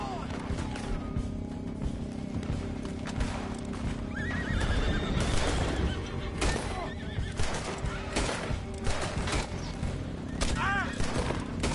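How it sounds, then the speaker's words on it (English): Horses whinny and clop along in the Red Dead Redemption 2 video game, with repeated neighs over hoofbeats, bursts of gunfire and shouted voices in a busy outdoor chase. "We got some horses from the stables, come on!"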